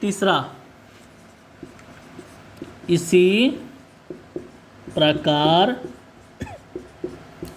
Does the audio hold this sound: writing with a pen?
yes